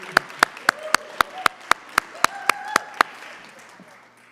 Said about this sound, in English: One more round of applause for all of our classroom champions and our district champions